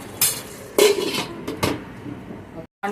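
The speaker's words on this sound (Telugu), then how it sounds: "ఒకసారి మళ్ళీ మూత పెట్టుకుందాం" Metal lid set back onto a pot of sweet pumpkin curry with jaggery, giving a few sharp clanks and a brief scraping clatter, close and clear, followed by a short quiet gap.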